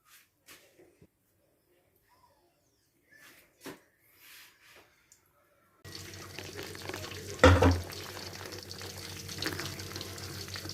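Vegetable spring rolls frying in moderately cool oil, a steady bubbling hiss that starts abruptly after near silence and carries on with a brief louder burst partway through.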